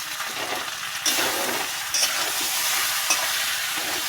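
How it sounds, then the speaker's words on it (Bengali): Taro pieces with turmeric and salt being stirred in a hot pan, a steady sizzle of frying with scraping stir strokes and a few sharp clinks of the utensil against the metal, close and fairly loud. "ভালো করে মিশিয়ে নেব"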